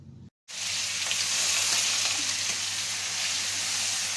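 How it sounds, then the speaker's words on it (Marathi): Green chili and garlic paste fry with cumin in hot oil, a loud, steady sizzle that starts abruptly after a short silence and holds evenly with a faint low hum beneath. "जिरे टाकून हिरवी मिरची आणि लसूण वाटल्याला परतून घ्यायचा"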